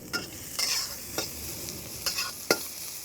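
Onions and garlic sizzle in a smoking hot wok for a pork stir-fry, a steady bright hiss broken by several close scraping stirs of a utensil against the wok.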